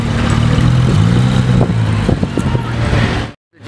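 A Gintani-tuned Lamborghini SVJ engine roars loud and close, a throaty rev with sharp crackling pops before cutting off abruptly, then a fresh burst starting.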